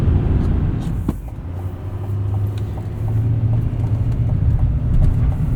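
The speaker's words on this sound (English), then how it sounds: "And a turbo diesel V8 just sounds cool too." A 2025 Chevrolet Silverado 2500 Trail Boss with a turbo diesel V8 drives along, giving a steady low engine rumble with road noise that swells slightly near the end, heard from inside the cab with no talking.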